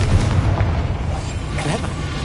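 Spell explosions in a Hogwarts video game, deep booming blasts with a rumbling low end that roll on continuously and loudly, no voices over them.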